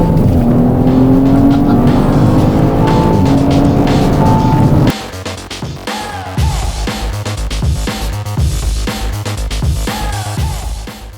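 An Audi RS5 with its 2.9 litre V6 drives past, loud and close, with a steady engine drone and rising revs and gear changes. A sharp cut after the opening seconds gives way to a throatier, more varied run of engine note.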